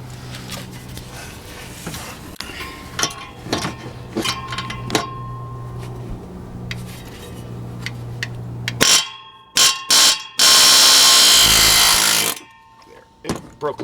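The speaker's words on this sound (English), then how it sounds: "I'm going to hit it with this air chisel, and that will cause the vibration, will cause it to sort of work itself loose" An air chisel hammers at a nut on a 2005 Dodge RAM 1500 water pump, first in short sharp bursts, then in a long loud continuous rattling blast before stopping, close up with no talking.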